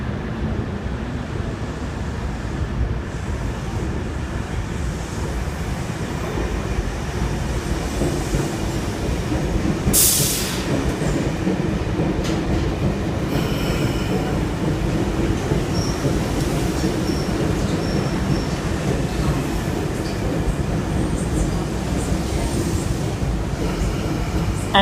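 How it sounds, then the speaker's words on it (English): A Sydney Trains S set rolls into Circular Quay station in the afternoon peak, a long, steady roar of wheels and carriages with rail clatter and a sharp squeal near the middle, loud and close throughout. "We have an S set approaching,"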